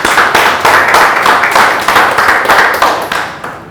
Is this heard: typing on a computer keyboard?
no